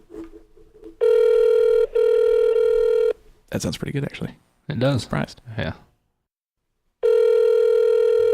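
A phone call placed on speakerphone during a podcast gives loud, steady ringback tones in long bursts, broken by a stretch of people talking and laughing, then the tone sounds again.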